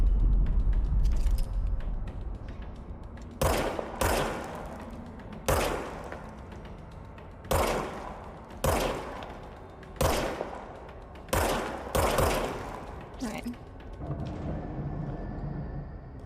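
Gunfire in the video game Control comes in several sharp bursts of shots spaced a second or two apart, loud and close over a low ambient background, with a pause for a reload partway through.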